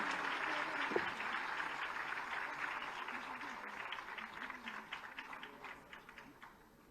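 An audience applauds at a public stage event in Lucknow, a steady crowd clapping that gradually fades toward the end, with faint speech mixed beneath.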